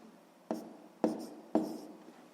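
Pen on paper writing out a sixth-grade maths exercise: three short, close scratchy strokes, each starting with a sharp tap and fading away, heard alone against a quiet room.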